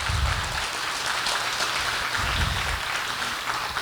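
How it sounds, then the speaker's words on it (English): Audience applause fills a celebration marking the reopening of the new Minnesota Children's Museum: dense, steady clapping from a crowd that holds at an even level throughout, with no talk over it. "Yes, you can applaud."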